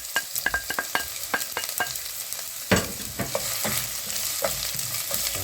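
Finely chopped onion sizzling as it hits hot olive oil in a pan, a loud steady frying hiss with scraping and stirring clicks from a utensil, close and continuous.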